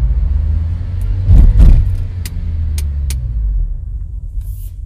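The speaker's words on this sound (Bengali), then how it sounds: "পার্কিং ব্রেক ব্যবহার করবো" A car with failed brakes slows to a halt after a downshift and use of the parking brake, a loud low engine rumble swelling briefly then settling, with a few sharp clicks and taps near the end.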